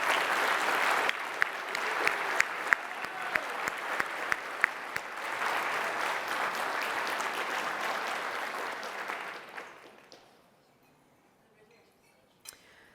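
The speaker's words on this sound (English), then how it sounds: "let's give this group a round of applause" Sustained applause from a luncheon audience at a special awards event, dense clapping with sharp individual claps standing out, lasting about nine seconds before fading into near silence with one late clap.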